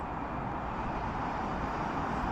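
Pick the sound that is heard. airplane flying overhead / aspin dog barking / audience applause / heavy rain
airplane flying overhead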